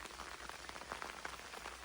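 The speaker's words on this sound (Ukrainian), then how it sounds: "Так гарно падає дощ" Steady rain patters softly and evenly in a forest, a quiet continuous hiss of drops falling with no voices.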